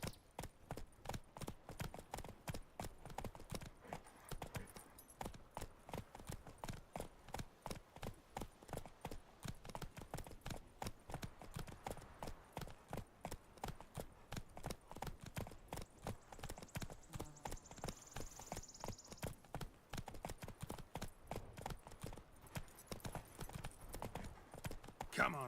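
Horse hooves clip-clopping steadily in The Witcher 3 video game, with an even, continuous rhythmic trot that stays clear and moderately quiet throughout, while a few faint background sounds pass underneath.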